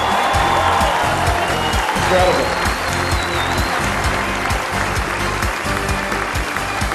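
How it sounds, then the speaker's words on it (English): Applause at a church grand opening in Sacramento runs under a strong low rhythmic music bed, with a brief spoken exclamation and faint voices mixed in throughout. "Give yourselves a round of applause."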